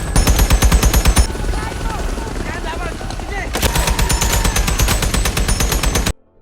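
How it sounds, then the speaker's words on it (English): Heavy machine gun fire rips in rapid bursts during a war movie firefight near a helicopter landing zone, loud and close, broken by a lull filled with rotor whine and distant action before the sustained firing resumes and cuts off abruptly. "a near RPG miss forces them to retreat under heavy gunfire"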